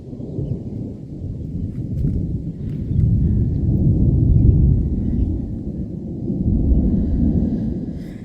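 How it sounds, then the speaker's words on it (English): Thunder from an afternoon thunderstorm in Darwin rolls in a continuous heavy, low rumble, swelling and easing over several seconds, loud and close, with faint crackles above it. "thunderstorm in Darwin"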